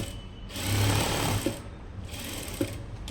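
Close, loud sewing machine stitching lining fabric for a blouse sleeve, a rapid mechanical whirring chatter that runs in bursts, with brief pauses and small clicks between them.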